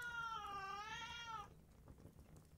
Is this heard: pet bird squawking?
no